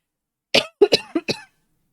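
A person coughs in a quick series of about four or five sharp, close bursts, starting after a short silence and ending abruptly, with no talking around them.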